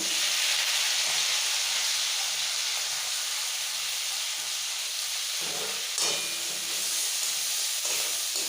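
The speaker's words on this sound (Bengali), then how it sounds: "এবার আমি ওই তেলটার মধ্যে পেঁয়াজগুলো দিয়ে দেবো" Onions dropped into hot oil left from frying prawns for a prawn curry, giving a steady, close hissing sizzle that holds throughout with a brief flare near the end.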